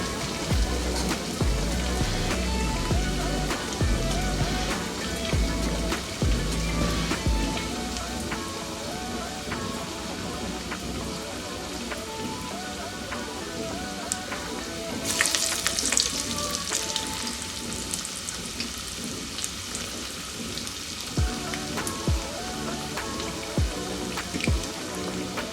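Lima bean masala vada deep-fry in hot oil over a medium flame, giving a dense, continuous crackling sizzle with fine popping, which grows briefly brighter partway through.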